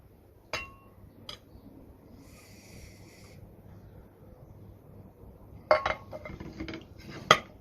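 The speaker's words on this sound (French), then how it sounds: "on a un joli steak d'aloe vera et on va le couper maintenant en petits morceaux" A knife cuts an aloe vera leaf into small pieces, making a few sharp clicks and taps against a hard surface with quiet stretches in between, ending with two clearer knocks.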